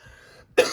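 A single sharp cough bursts out near the end after a quiet moment, close and loud, with no talking over it.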